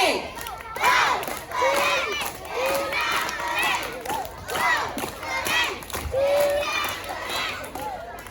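A crowd of schoolchildren at an Isra Miraj commemoration chants letters together in loud, rhythmic unison shouts, repeated several times close by.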